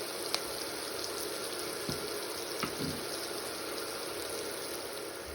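Vegetables sautéing in a pan for curry fried rice, with a soft steady sizzle and a few faint clicks of a utensil against the pan, quiet and without talking.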